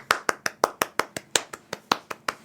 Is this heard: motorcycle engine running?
no